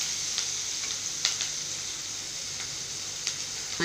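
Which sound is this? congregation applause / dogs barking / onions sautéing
onions sautéing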